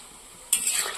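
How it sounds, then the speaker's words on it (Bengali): Ivy gourd leaf fritters frying in oil start to sizzle abruptly after a brief quiet moment, a sharp bright hiss that carries on close and fairly loud to the end. "কুঁদরি পাতার বড়াগুলো কিন্তু প্রায় ভাজা হয়েই এসছে"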